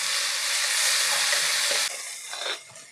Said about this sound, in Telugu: ఇప్పుడు గరిటెతో ఒకసారి కలుపుకొని